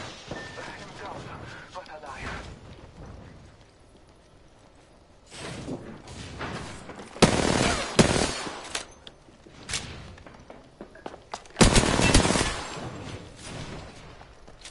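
Bursts of video game gunfire from a fast-paced battle royale match, several sharp volleys at close range mixed with thuds, heard under excited players talking.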